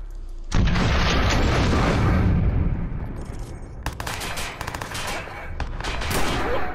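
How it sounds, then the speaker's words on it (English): Watch Dogs video game gunfire erupts as a loud, dense, continuous barrage of shots and blasts that runs almost the whole clip, thinning into sharper separate cracks toward the end. "you keep shooting at me"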